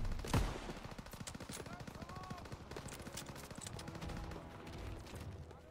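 Call of Duty WWII gameplay fills with dense gunfire: rapid machine-gun bursts and rifle shots crackling almost without pause, with a heavy boom near the start and scattered voices in the mix.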